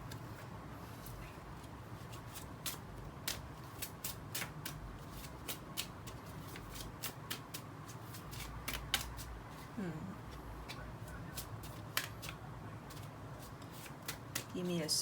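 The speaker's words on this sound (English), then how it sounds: "let's pull some cards from the Romance Angel Oracle" Romance Angel Oracle cards being shuffled by hand, giving a steady run of soft riffling and sharp, close flicks and taps over a quiet room hum, with no talking.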